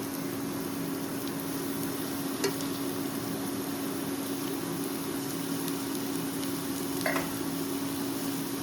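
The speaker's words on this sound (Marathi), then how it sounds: "कांदो म्हाजो आतां तळसलो" Chopped onions fry in oil for a dry prawn kismoor, a steady close sizzle with a constant hum underneath and a couple of faint clinks.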